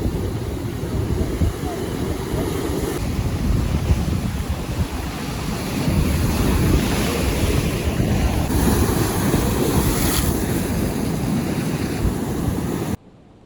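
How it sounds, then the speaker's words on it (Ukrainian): Rough Black Sea surf crashes and churns continuously on a beach at Chornomorsk under heavy wind buffeting the microphone, loud and close, before cutting off abruptly at the end. "Сьогодні море в нас таке штормове"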